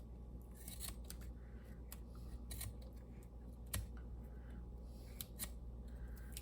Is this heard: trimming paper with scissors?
yes